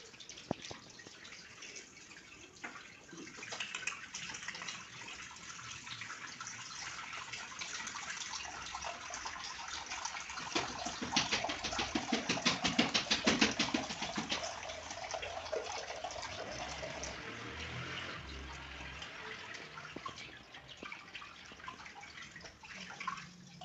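Water from a tap runs steadily for a long stretch while hands are washed, a faint, continuous splashing stream with small drips and shifts in flow.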